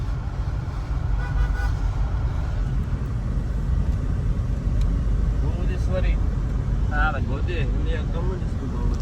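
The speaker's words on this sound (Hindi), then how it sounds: "ट्रैफिक है, चारों साइड।" Dense road traffic surrounds the listener with a constant loud rumble of engines and brief horn toots, with talking over it.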